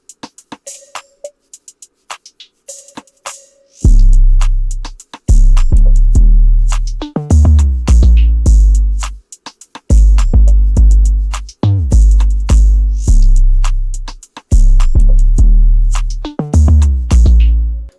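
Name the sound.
drums of a beat made in FL Studio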